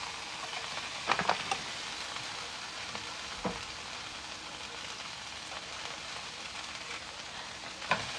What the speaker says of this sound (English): And drop my onion in here.